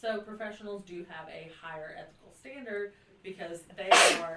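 One sharp human sneeze bursts out near the end, loud and close, following a stretch of steady talking by a woman.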